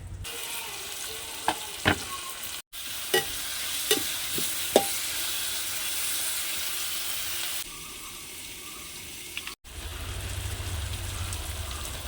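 Kashmiri chili, coriander, chicken masala, turmeric and pepper powders fry in a pan under steady stirring, with sharp spoon scrapes and taps over a continuous sizzle, close and moderately loud, broken by two brief cuts.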